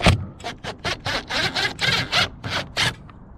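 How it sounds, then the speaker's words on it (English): A wrench turns self-tapping bolts loose on an LED trailer light fitting, making a quick series of about ten close, gritty ratcheting strokes in an even rhythm. "Just gonna get these bolts taken off."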